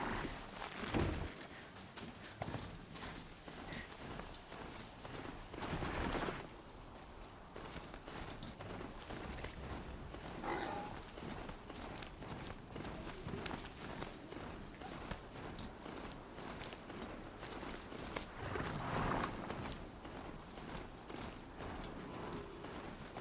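Mechanical horse hooves clip-clopping in the open-world game Horizon Zero Dawn, a quiet, steady rhythmic patter of steps over ambient noise, with occasional louder thumps and no talk.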